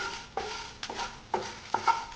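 Fennel seeds, a cardamom pod and a bay leaf are stirred while dry-roasting in a cooking pot, producing several short, close scraping strokes in an uneven rhythm.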